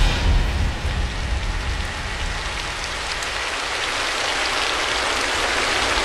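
Steady rain pours down in a dense, even hiss, loud at first and then settling into a continuous downpour with no voices.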